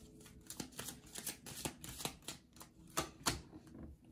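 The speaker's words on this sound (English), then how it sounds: "we're gonna put down one more card here" Kipper fortune-telling cards being handled and laid on a table during a reading, a series of soft close shuffling and slapping card sounds in an irregular rhythm, no talk.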